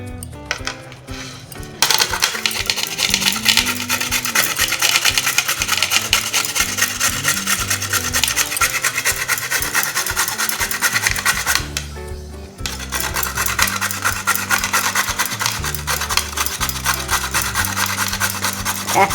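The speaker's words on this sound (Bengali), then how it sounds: "তাহলে এবার আমি গাজরগুলি ঘষে নিচ্ছি" Carrots are rubbed against a hand grater for carrot halwa, a continuous scratchy rasping that runs almost unbroken, pausing briefly twice before resuming at the same steady pace, with no talk.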